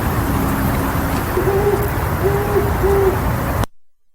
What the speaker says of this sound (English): They also give a single hoot, which is what the great horned owl does.